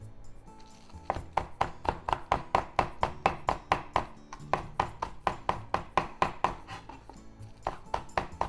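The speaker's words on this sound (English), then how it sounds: "let's just make thin slices" A knife slicing food into thin slices on a cutting board while making onigiri, a brisk even run of close, crisp taps, two bursts of rapid cuts separated by a short pause.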